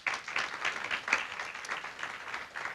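An audience applauds at an indigenous language seminar, steady clapping from many hands at moderate distance, sustained for a few seconds without talk.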